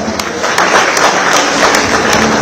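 Audience at the Bengaluru International Film Festival applauding actor Dhananjaya, a dense, loud, sustained burst of clapping from a large crowd.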